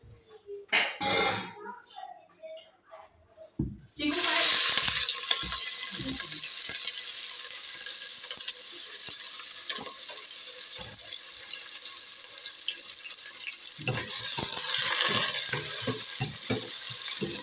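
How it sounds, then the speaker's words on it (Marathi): Onions hitting hot oil in a pan for crab curry, a sudden loud burst of sizzling that settles into a steady hiss, with scattered clatter and a brief voice before it. "आता आपण कांदा टाकून घेऊया"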